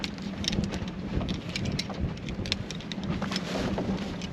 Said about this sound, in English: It's pretty windy today.